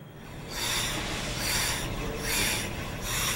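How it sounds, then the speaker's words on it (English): A steel cabinet scraper with a burnished edge shaving a wooden guitar neck to its final shape, close rasping strokes in repeated swells of roughly one stroke per second, no speech. "He's using that to scrape the neck down to the final shape."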